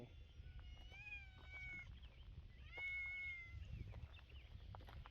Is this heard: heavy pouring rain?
no